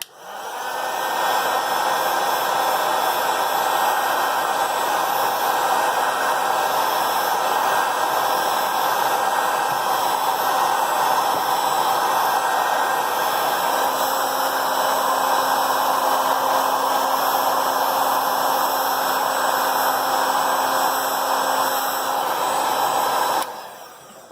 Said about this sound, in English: Now heat it up the sides and then the other side.